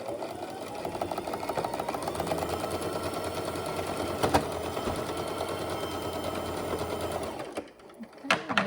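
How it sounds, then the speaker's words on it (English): Sewing machine stitching straight across a zippered pouch, a close, steady rapid whir and clatter running for about seven seconds, then stopping, followed by a few handling knocks and some brief, quiet talk. "and we're going to sew straight across."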